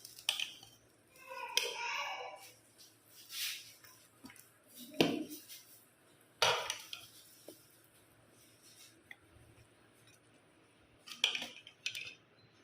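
Mutton pulao rice with bhuna gosht being served from a pot onto a plate, with a few sharp scrapes and clinks of a metal spoon at irregular intervals, quiet and close.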